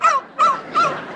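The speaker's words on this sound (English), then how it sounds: "small dog, small dog." A small dog gives three sharp, high-pitched barks in an even rhythm, close by and fairly loud.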